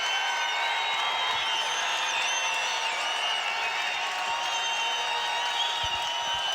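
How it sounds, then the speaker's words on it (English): Basketball arena crowd roaring at a Utah State at Wyoming college game, a loud sustained wall of cheering and whistling with no break, all crowd and no clear talk. "Listen to this crowd."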